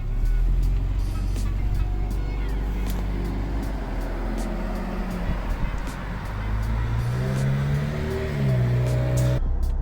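A Lexus car pulling away as its new owners drive off, a steady engine and road rumble close by, with the pitch shifting as it moves off and a sharp click at the very end.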